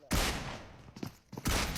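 Gunfire in the mobile battle-royale game PUBG Mobile, heard as loud, dense bursts of rapid shots, with a long volley, a short burst in the middle and another volley at the end.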